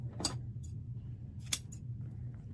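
Two crisp scissor snips trimming the tail of a 1.5-inch ribbon bow, a short one followed by a sharper one about a second later, close and clear over a faint low room hum.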